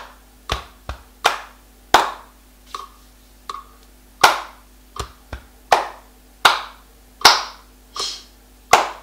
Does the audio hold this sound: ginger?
no